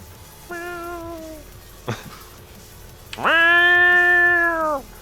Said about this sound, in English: the sound of cats fighting, man, that is intense